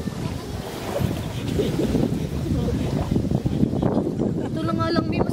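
Gusty sea wind buffets the microphone on the coast at El Nido, Palawan, a steady roar with low rumble throughout, mixed with faint boat or surf noise and voices in the background.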